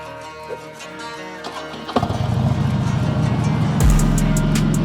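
A motorcycle pulls away and rides on, its engine rumble rising into steady wind-buffeted road noise recorded from the bike itself, loud and close.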